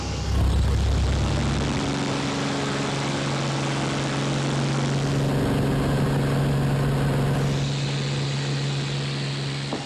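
A light propeller airplane flown by a volunteer pilot drones steadily from inside the cabin while overflying fire areas on Mexico's Yucatán Peninsula, a constant loud engine hum with no break.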